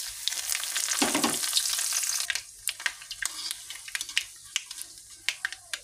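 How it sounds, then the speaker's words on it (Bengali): Spices sizzle hard in hot oil in a wok, a loud dense crackle for about two seconds that breaks into scattered pops and spits as the frying settles, with no talking. "তো এটা একটু ভাজা হলো"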